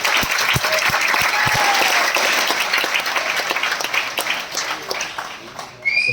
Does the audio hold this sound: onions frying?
no